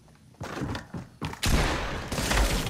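Gunfire from a Fortnite battle royale match played with sniper rifles, a few loud sharp game shots and thumps followed by a sustained blast of noise, with no talk.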